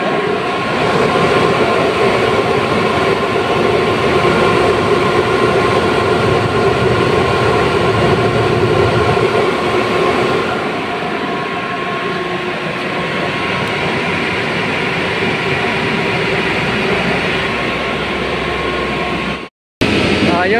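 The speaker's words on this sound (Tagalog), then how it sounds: "Pasensya na maingay kasi maandar yung dalawang compressor namin." Two air compressors in a compressor room drone loudly and steadily, a dense rumbling hum with a whining tone on top, continuous throughout and cutting off briefly near the end.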